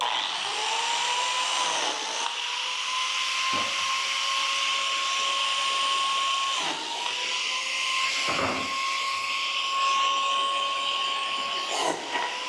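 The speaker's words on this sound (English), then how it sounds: "Notice I'm not even shutting the biscuit joiner off." Biscuit joiner cutting slots in the ends of barnwood shiplap boards, its motor whining loud and steady while it keeps running, with several short dips and bursts as each cut is plunged in turn.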